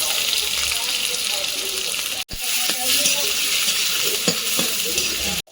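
Panch phoron spices, onion and green chilli frying in hot oil, a steady loud sizzle throughout with a few clinks and stirring knocks and a brief dropout midway.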